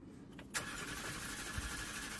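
A rented car's engine cranks but fails to start, making a steady, rough churning drone after a sharp click, heard up close with no talking over it.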